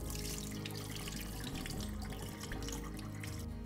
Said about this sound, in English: I'm going to drain that out one more time